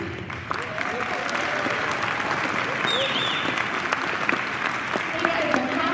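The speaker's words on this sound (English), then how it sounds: "One more round of applause for our kids." An audience at a high school indoor concert gives a sustained round of applause, dense and even throughout, with a few cheers and whistles rising from the crowd.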